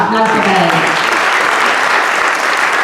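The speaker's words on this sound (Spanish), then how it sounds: "un aplauso para él" Steady audience applause fills a biotechnology innovation event as a guest from an analytics company is welcomed, dense clapping throughout with a voice briefly speaking over the start.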